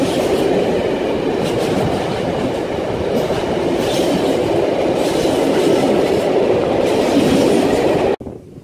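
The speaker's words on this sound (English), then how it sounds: "come from Leeds and it's on its way down to Southampton Freightliner Terminal." Freight train from Leeds bound for Southampton Freightliner Terminal rumbling past at close range, with a steady loud roar of wagons and rhythmic wheel clatter that cuts off abruptly near the end.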